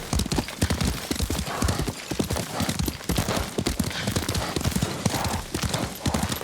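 Horse hooves clip-clopping in a rapid, steady gallop in the video game Ghost of Tsushima, loud and close, with a brief whinny mixed in and no talk over it.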